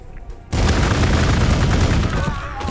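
Gunfire erupts in Warhammer 40k Gladius, an abrupt loud volley of dense, rattling shots that sustains for about two seconds before tapering off.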